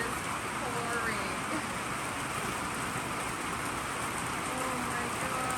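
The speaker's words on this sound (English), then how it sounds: "It is pouring." Heavy autumn rain pours onto the roof of a house in a cold, wet Oregon yard, a steady dense broadband hiss heard from indoors, continuous and even with no pauses.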